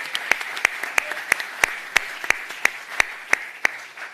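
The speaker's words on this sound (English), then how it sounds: "let's give a huge, warm round of applause for what we just saw from the 7 companies." An audience at a bank innovation day event claps in a steady, evenly spaced rhythm of sharp hand claps, fairly close and clear.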